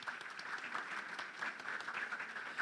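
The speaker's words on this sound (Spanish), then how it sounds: "Un aplauso para nuestro modelo, por favor." Audience applause for a model during a live therapy talk on depression and anxiety, a steady, moderately faint wash of clapping lasting a few seconds with no speech.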